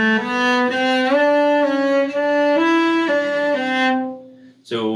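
Cello playing measures of Minuet in G from the Suzuki Cello Book Volume 3, moving from first into second position: a clear, close bowed melody of steady stepwise notes, played alone, ending in a brief pause and a new note.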